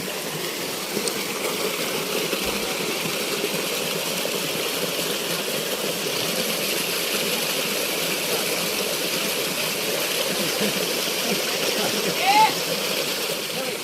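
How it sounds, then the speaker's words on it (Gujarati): Water rushes and splashes continuously in a steady wash, like small streams flowing near the Khuniya Mahadev waterfall in the Pavagadh forest, with a voice speaking faintly over it. "નાના નાના ઝરણા વહી રહ્યા છે"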